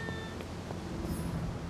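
A cat meows in a survival video game, a short, faint call over steady background ambience with no talking.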